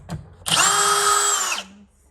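Power drill driving a screw during a water softener installation, a single loud, high whine that lasts about a second before spinning down, with a faint click just before it starts.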